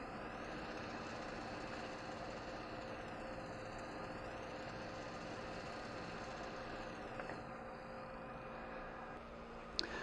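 A Thunderbolt analyzer shaker running at 900 RPM, a faint steady mechanical hum with a sweeping high whine rising and falling, plus a small click near the end.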